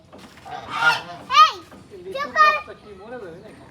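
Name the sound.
ducks quacking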